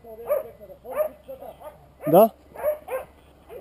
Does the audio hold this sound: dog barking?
yes